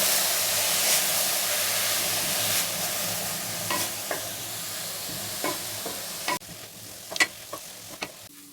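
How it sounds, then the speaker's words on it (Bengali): Carrot and cabbage fry in a pan as momo filling, a steady sizzle with scattered stirring scrapes and clacks of a utensil, softer and drier toward the end. "এবার আমি বাঁধাকপিটাও দিয়ে দিচ্ছি সবজিগুলোকে একটু ভালো করে ফ্রাই করে নেবো"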